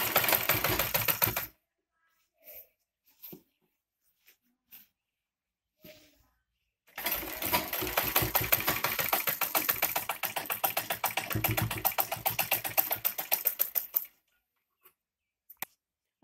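A sewing machine stitches a tulip salwar in two bursts of steady, rapid mechanical clatter, one short run and one long run lasting several seconds, with a few isolated clicks and taps between them.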